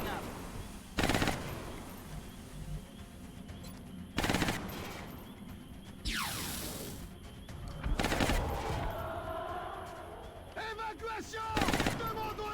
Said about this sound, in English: Suppressing fire coming up.